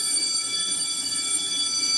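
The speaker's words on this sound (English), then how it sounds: "Let's ring the damn bell" A bell signalling the end of a lecture break rings continuously and loudly with a steady, shrill electric buzzing tone that holds unbroken for the full two seconds, with no voices.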